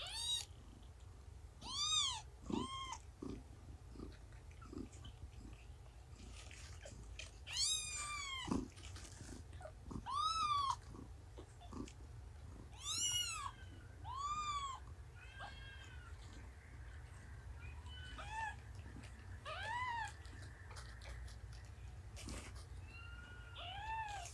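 Young kittens meowing in a series of repeated high, rising cries, close and fairly quiet, some overlapping, with soft purring and small shuffling noises between calls.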